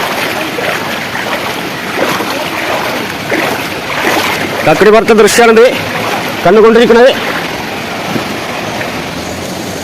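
Floodwater surges over a bridge at Kakkidikkal waterfall, a steady broadband rush roaring close throughout, while someone talks over it in two short stretches.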